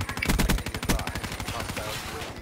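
Rapid bursts of automatic gunfire in Call of Duty: Black Ops III, loud and dense at first, then thinning into scattered shots with background game noise.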